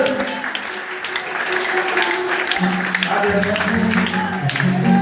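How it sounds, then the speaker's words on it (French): Church congregation clapping along during a consecration service, steady dense applause mixed with singing voices and music throughout, moderately loud and continuous. "applaudis mon Dieu, applaudis mon Dieu"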